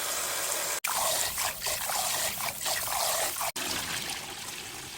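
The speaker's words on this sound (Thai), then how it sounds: "แต่ก่อนอื่นก็ต้องล้างข้าวหลาย ๆ รอบเลยนะคะ" Basmati rice being washed in water, a close continuous sloshing trickle with swirling and splashing as grains are rinsed, briefly broken twice.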